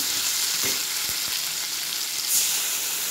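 Soaked chickpeas hitting hot oil in a pan, a steady loud sizzle with a few light stirring knocks, close up and without talk.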